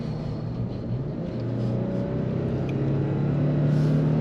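A 2023 Nissan Frontier Pro-4X V6 truck accelerates on the freeway, its engine a steady low drone that grows slightly louder and rises in pitch, heard from inside the cab with no talk.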